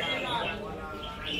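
Songbird singing during a bird-song competition round, its bright warbling chirps continuous and fairly close, with people talking and crowd chatter underneath.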